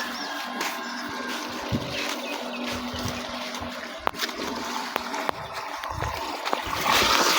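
Water flows steadily from the pipe of a second borewell pump on a farm, a continuous splashing rush with occasional knocks and a brief louder swell near the end.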